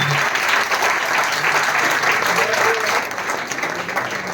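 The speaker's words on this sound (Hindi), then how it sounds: "चलो एक बार जोरदार ताली हो रही आप लोगों के लिए।" Loud, sustained applause from a crowd at a directors' experience-sharing event, dense clapping that continues evenly throughout with a voice faintly heard underneath.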